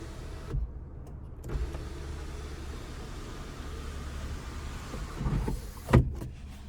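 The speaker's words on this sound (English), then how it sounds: "And then we have a power sunroof." Power sunroof on a 2021 Mazda 6 Carbon Edition sliding open, a steady motor whir inside the cabin over road hum, with a few soft clunks near the start and a thud as it stops.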